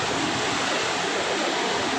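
Steady, dense roar of surf on the beach at Pelabuhan Ratu, continuous broadband wash with no distinct breaks and no voices.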